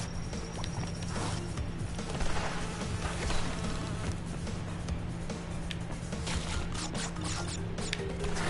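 Insect-like buzzing from bees in the Crash Bandicoot N-Sane Trilogy video game, a steady drone running throughout amid game effects, with no talk.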